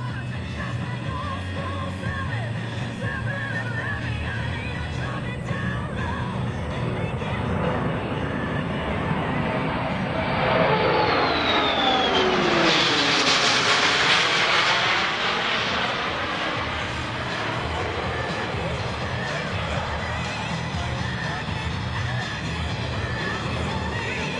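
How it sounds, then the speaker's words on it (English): A Boeing C-17 Globemaster jet passes low and unusually quietly, its engine roar swelling to a peak midway with a sweeping pitch shift, then fading, over steady ambient noise. "Notice how quiet the C-17 is while passing."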